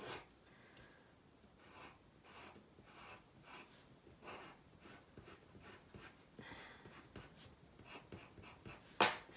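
An ebony graphite pencil shades across paper in quick repeated strokes, a soft rhythmic scratching and rubbing, close and quiet, ending in one sharper stroke.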